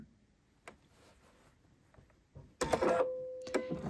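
A domestic sewing machine stitches a zigzag seam along a decorative ribbon, a burst of loud, steady mechanical whirring starting partway through after quiet handling noises.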